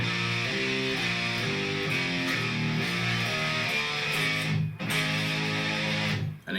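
Distorted electric guitar plays the cKy Flesh Into Gear riff, steady chugging power-chord phrases repeating throughout, loud and close with no voice.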